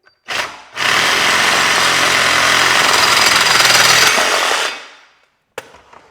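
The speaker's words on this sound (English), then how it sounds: "So I'm using my sawzall" A reciprocating saw (Sawzall) bites into lumber while a DIY wall-mounted lumber storage rack is being built, giving a loud, harsh, buzzing cut that runs steadily for about three and a half seconds before winding down, with a brief knock afterward.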